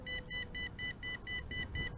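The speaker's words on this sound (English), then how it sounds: "it's continuously beeping" A drone controller beeps repeatedly in a steady rhythm, about three or four beeps per second, over a low rumbling background, as the drone reaches the limit of its range.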